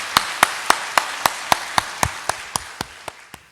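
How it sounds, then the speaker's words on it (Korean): A church congregation claps together in unison, about fourteen sharp, evenly spaced claps ringing out in a steady rhythm that slows slightly toward the end. "다시 한번 축복하면서 박수하겠습니다."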